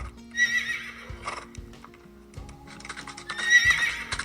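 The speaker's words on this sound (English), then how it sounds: "I have a silky coat, and I sometimes say neigh." Recorded horse whinnies twice, loud and close, with a clopping of hooves and a bit of clatter between the calls.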